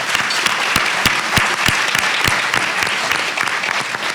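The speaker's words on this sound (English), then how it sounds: "So please give them a round of applause." An audience at a prison reentry conference panel claps loudly and continuously, sharp individual claps popping out of a dense, even wash of applause.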